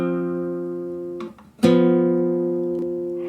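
Sustained piano shell-voicing chords from a 2-5-1 jazz progression, one held chord followed by a fresh struck chord that rings and slowly decays, with no talk.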